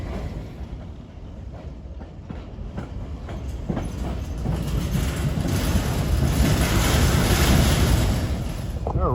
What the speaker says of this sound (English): This is an empty coal train with a